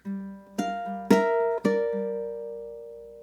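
Ukulele playing the second half of a song, with three strummed chords at a steady pace over a held lower note. Each chord rings out and fades, played alone with no voices.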